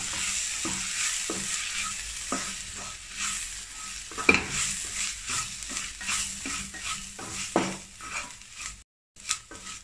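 A spoon stirs spice powders (chili, pepper, meat masala, asafoetida and turmeric) in a pan of frying fish filling, with a steady sizzle under repeated close scraping strokes and occasional utensil clinks.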